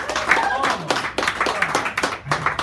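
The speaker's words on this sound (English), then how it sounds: "Give a round of applause for Hal Robbins." An audience at a poetry hour in a San Francisco café claps for poet Hal Robbins, an uneven patter of hands mixed with chatter and voices throughout.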